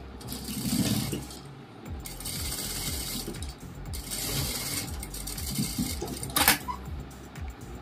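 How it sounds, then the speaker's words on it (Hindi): A sewing machine stitches fabric lines over a cord for a latkan tassel, running in clattering mechanical bursts separated by short pauses, fairly close and moderately loud. "इस तरह से जो जो हमने लाइन मारी थी उन सारी लाइनों पे हम सिलाई मारेंगे।"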